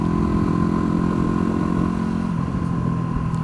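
A Supermoto dirt bike engine runs loud and steady while being ridden, a constant droning hum with wind noise and no talking.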